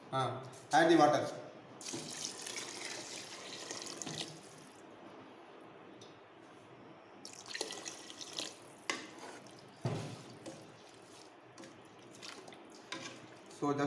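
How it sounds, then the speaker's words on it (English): Water is poured into a pot of rice for vegetable biryani, with running, splashing bursts interrupted by quieter stretches, close and moderately loud. "Add the water."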